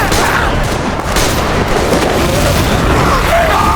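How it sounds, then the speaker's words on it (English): Gasoline set alight by a thrown torch erupts into a blast in The Last of Us, a dense, sustained roar of booming and crackling fire that fills the whole stretch at a loud, steady level with no pauses. "The gasoline ignited into flames, blowing up the infected that had gotten too close."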